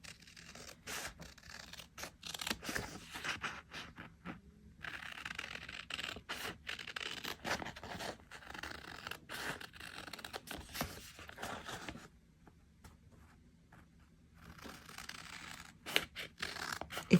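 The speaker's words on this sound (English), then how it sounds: "Scissors. All right, so I'm going to cut it out." Scissors snip and scrape through a sticker sheet up close, an irregular run of crisp cuts and rustles with a short quieter pause near the end.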